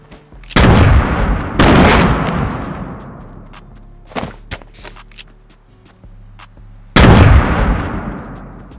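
Shotgun blasts in the video game Fortnite: three loud, booming shots with long decaying tails, spaced apart, plus a few smaller pops and clicks between them, no speech.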